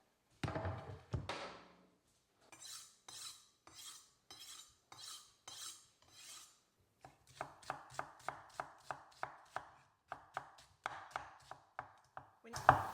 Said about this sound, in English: When you're caramelizing onions, you always want to cut your onions what is called pole to pole, so from the root end to the blossom end